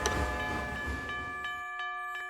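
A departing train in an animated chase scene at a bank: a dense rumble with steady tonal whistle-like lines fills the first part, then thins to sustained tones with a few brief bursts as it pulls away.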